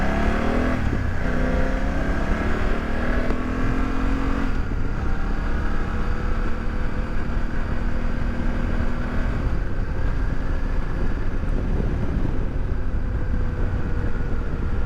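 A BMW F900GS motorcycle cruising on a hot road, steady engine drone with heavy wind roar, loud and continuous, gear-like pitch shifts early on, no talking.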